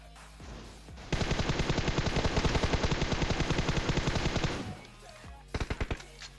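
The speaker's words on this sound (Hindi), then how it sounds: "एक सामने से फायर करने लगा।" Rapid automatic gunfire in a battle royale video game, a long sustained burst of close, loud shots for several seconds, then a pause and a shorter second burst.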